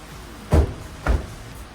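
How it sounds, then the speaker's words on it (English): Two solid thuds about half a second apart as the doors of a Honda Element are shut during a rooftop tent install outdoors, close and distinct. "I'm gonna shut my doors back"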